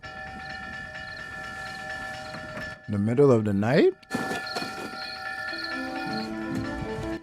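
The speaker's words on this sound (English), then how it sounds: "Is that a train?" A passing train rumbles with a steady tonal hum and rattling, loud and sustained, while a voice speaks briefly over it in a drama scene.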